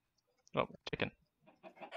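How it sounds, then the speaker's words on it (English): Chicken clucking in a video game, a few short squawky bursts in quick succession followed by softer clucks, close and clear against silence. "Oh, chicken."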